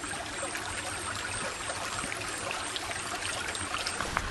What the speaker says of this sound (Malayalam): നല്ല തെളിഞ്ഞ വെള്ളം